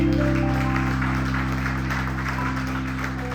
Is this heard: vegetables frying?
no